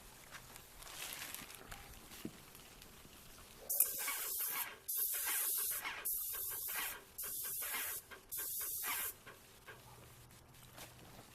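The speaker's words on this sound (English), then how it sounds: "Now that we have the sprayer set up, let me show you some proper spray techniques" Paint sprayer spraying paint onto a plastic test strip, sounding as five loud, steady hissing bursts of about a second each, separated by short pauses.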